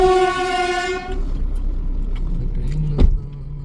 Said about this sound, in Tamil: எலக்ட்ரிக் ட்ரெயின் வருது.